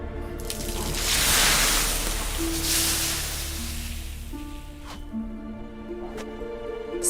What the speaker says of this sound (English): Gotta douse the coals.